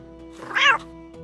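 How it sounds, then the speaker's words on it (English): A cat meows once from inside a bag in the video game Ankh 2, a short, loud, wavering cry rising over a quiet game soundtrack. "The proverbial cat in the bag."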